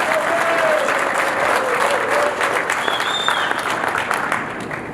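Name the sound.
applause at squadron reunion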